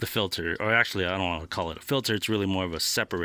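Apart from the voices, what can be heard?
No distinct noise like a dog, phone or traffic.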